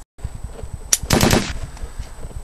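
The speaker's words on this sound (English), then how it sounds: "Shots fired! Shots fired!" Rapid bursts of gunfire crackle through a WWII Battle of Stalingrad combat scene, with scattered single shots followed by a dense, loud volley in the middle, and no voices.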